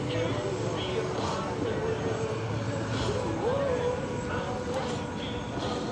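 A Boeing C-17 Globemaster III jet flying a slow-speed circle over the airfield at an air show demonstration, a steady distant engine roar under a loud announcer's voice.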